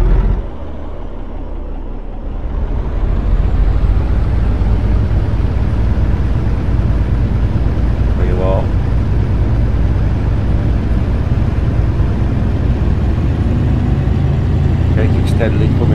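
A heavy International truck engine in American Truck Simulator, with a replacement engine sound pack, rumbles in a low, steady drone that swells and then holds loud and constant, with faint higher whines on top.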